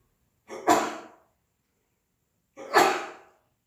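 Two separate sneezes about two seconds apart, each a sharp intake followed by a loud burst, close and clear in an otherwise quiet classroom setting.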